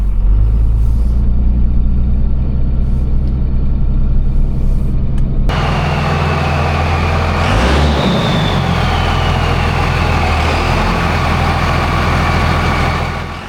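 Cummins diesel engine idling in a 4x4 Chevy van, a steady loud low rumble running on its own, with a shift partway through as a hiss and rising whine join, then holding steady.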